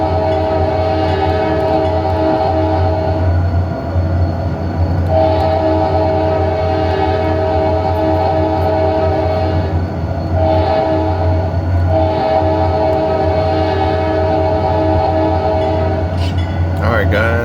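Custom train horn on an SD40 locomotive sounds in long, loud chords, several sustained blasts with short breaks between them, alone and up close.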